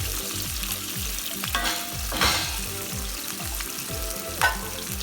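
Potatoes with onions, salt, pepper and rosemary fry on very high heat in a steady, loud sizzle, with occasional stirring scrapes and a couple of brief clatters.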